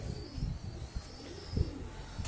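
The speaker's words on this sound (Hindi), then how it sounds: "कबूतर सियालकोटी है" A Sialkoti pigeon coos in low, soft, repeated murmurs close by, several short pulses over a steady background hiss.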